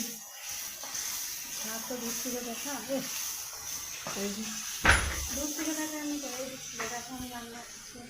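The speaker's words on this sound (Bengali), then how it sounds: "এবার আমি রান্না করছি দেখো নাড়ছি" Spices for khichuri fry in a pan while being stirred, giving a soft steady sizzle with occasional scrapes and one sharp knock. A voice talks over the cooking for most of the clip.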